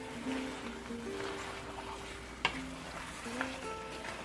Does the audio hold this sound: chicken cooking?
yes